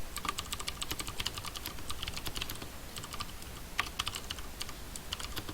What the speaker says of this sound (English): So I'm going to type in my message.